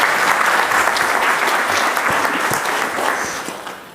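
Applause from an audience at an official flag-off ceremony, a dense, steady clapping that fills the space and slowly fades toward the end.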